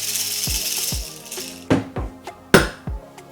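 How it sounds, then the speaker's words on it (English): Coffee beans are poured into a Timemore C3 hand grinder, giving a few sharp clattering impacts and rattles, close and fairly loud, with no talking. "Put our coffee in the grinder."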